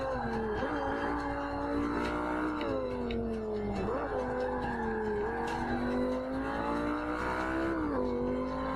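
A Lamborghini Superleggera races in Forza Motorsport 5, its engine droning steadily and loudly with repeated rises and dips in pitch through gear changes, continuous throughout without talk.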